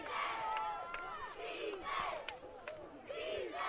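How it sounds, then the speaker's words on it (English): Shafter cheerleaders chant in rhythmic shouted bursts at a CIF Division 5 semifinal football game against Firebaugh, with a crowd murmuring steadily underneath throughout. "You hear the Shafter cheerleaders"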